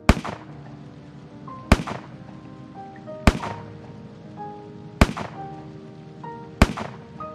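Five sharp gunshots ring out at roughly even intervals in an animated drama, each a crisp loud crack with a short decaying tail over quiet background tones.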